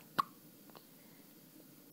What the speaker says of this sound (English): first hiccups on her birthday